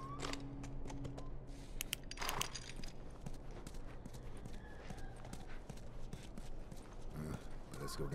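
Horse hooves in The Last of Us video game, a quiet, steady clip-clop of a horse walking with faint creaks and rustle, distant and low in level.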